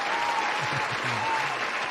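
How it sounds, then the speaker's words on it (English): Applause for a painter from a group of people, steady and dense, with faint voices running underneath for about two seconds. "round of applause for you, Juan"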